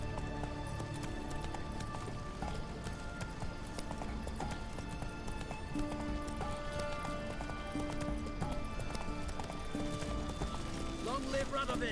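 A horse gallops in The Witcher 3 video game with rapid, rhythmic hoofbeats close by, layered over game music and ambient tones.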